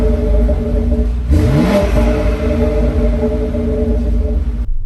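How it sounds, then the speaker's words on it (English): A BMW X3M performance SUV with a turbocharged inline-six S58 engine revs up steadily, a loud continuous engine drone that swells into a rising rev and then holds, cutting off at the end, with no talking. "This has got an inline-six turbocharged S58 motor."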